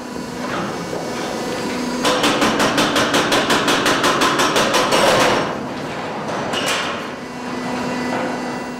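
Hydraulic rock breaker hammer smashing oversized chunks of ore in a Chilean copper mine in the Atacama Desert, a rapid burst of loud, evenly spaced impacts over a steady machinery rumble, then a few more blows.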